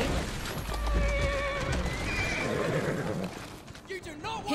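Horse neighing in the Assassin's Creed Syndicate video game, a loud whinny with steady clip-clop of hooves underneath, mixed with game audio and someone talking over it.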